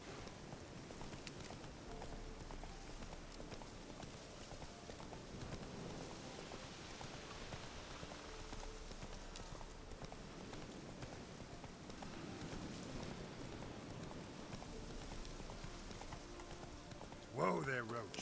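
Roach the horse trots with rapid, faint clip-clopping hooves in The Witcher 3, a steady patter over a soft rain-like hiss. The hoofbeats continue throughout, with a brief louder burst at the very end.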